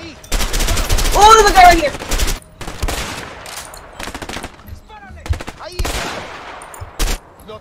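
Rapid machine-gun bursts and single shots fire in the video game A Way Out, loud and close, in several separate volleys with gaps between them, while a player calls out over the shooting.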